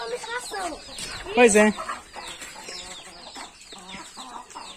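Chickens cluck busily at feeding time on a farm where they are given corn canjica and feed. Dense clucking and a few sharper squawks sound up close, while a person speaks briefly amid the birds.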